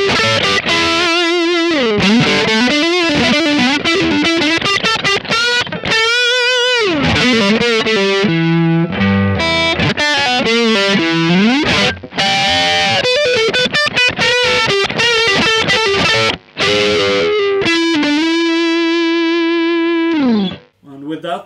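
Distorted electric guitar on the neck pickup, played through a modded Orange TH30 amp profile, a run of sustained notes and chords with a warm, rounded tone, loud and continuous.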